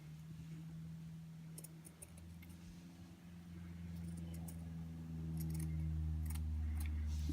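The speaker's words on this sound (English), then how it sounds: "Cut it to the length you need it." Scissors snip fabric for Bratz or Barbie doll clothes, faint close clicks and short cuts in small clusters over a low steady hum.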